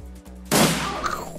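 A single gunshot in the turn-based RPG Shadowrun Returns, a sudden loud blast followed by a fading, noisy tail after a short low tone.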